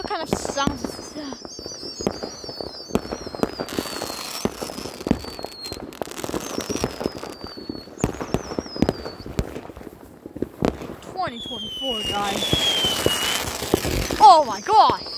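Fireworks going off around a residential neighborhood on New Year's Eve, with sharp bangs and crackling bursts scattered throughout, some with rising whistles, near and far, while people talk and react over them.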